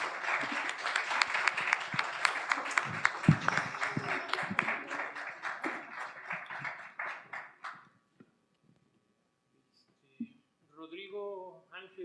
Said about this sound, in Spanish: yo les pediría que les agradeciéramos su participación por medio de un aplauso